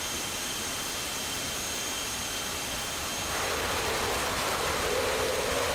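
An F-16C Viper jet engine in the DCS flight simulator roars as a steady, broadband whoosh that swells louder about halfway through and holds there, with no talking.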